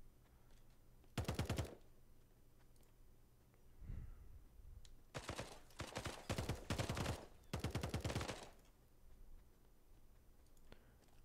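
Bursts of automatic gunfire in the battle royale video game Radical Heights, three separate volleys of rapid shots with a short thump between them, fairly close and loud over quiet game ambience.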